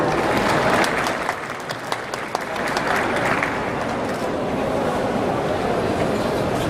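Audience applause at the opening ceremony of the 2019 Osong cosmetics and beauty industry expo in Cheongju, a dense, steady wash of many hands clapping that fills the hall throughout at an even, loud level.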